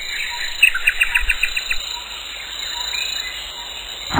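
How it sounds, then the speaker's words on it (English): A nightingale sings a quick run of bright chirping notes, close and clear, then fades into a quiet background hiss; a voice softly speaks over the song. "Nightingale begins with the letter N."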